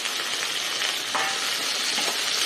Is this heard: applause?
no